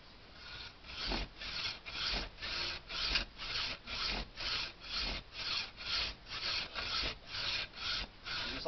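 Rhythmic strokes of a hand saw biting through wood, about sixteen even back-and-forth rasps in a steady tempo, close and clear with no talking.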